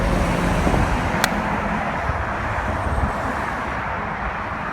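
Steady street traffic roars beside a golf course, a constant broadband wash of passing cars and vehicles with one brief sharp click partway through, no voices.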